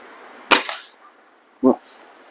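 A BSA Meteor Super air rifle fires H&N Sport pellets at a 25-yard target. Sharp, close cracks are heard, two clear shots and the start of a third, spaced about a second apart.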